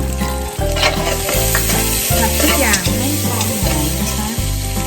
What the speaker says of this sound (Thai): ผัดทุกอย่างให้เข้ากันค่ะ